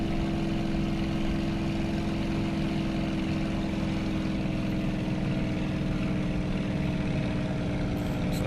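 A single aircraft engine in the World Flight VR game, throttled back in crosswind flight, drones steadily and evenly at close range for the whole stretch, with no talk over it.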